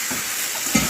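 Potatoes dropped into a pan of frying spice paste with garlic paste, salt, turmeric, cumin and chilli powder, giving a steady close sizzle with a brief louder burst near the end.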